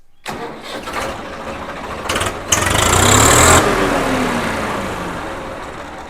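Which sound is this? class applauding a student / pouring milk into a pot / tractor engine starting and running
tractor engine starting and running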